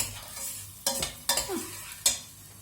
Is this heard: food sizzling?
yes